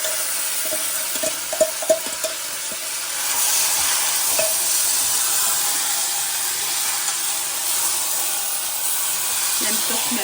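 Curry hits a hot tempering in a home kitchen with a burst of loud, steady sizzling and hissing, preceded by a few sharp clinks and stirring taps, continuing evenly for several seconds.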